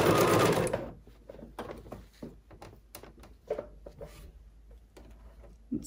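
A domestic sewing machine stitching an embroidered fabric face mask runs in a loud, steady whir for just under a second, then stops, leaving faint scattered handling clicks and rustles of fabric close by.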